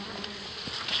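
Honeybees hum steadily at a North American hive, a dense continuous buzz of many insects up close with no talking.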